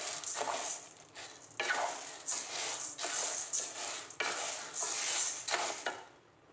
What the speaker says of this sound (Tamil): உளுந்தை நல்லா வறுக்கணும். கொஞ்சம் செவக்க வர மாதிரி வறுத்துக்கிடணும்.